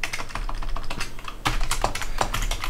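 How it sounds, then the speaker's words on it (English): Steady typing on a computer keyboard while setting up a web page on a Raspberry Pi web server, with close, rapid keystrokes running continuously with a short pause in the middle. "And then we type something in like"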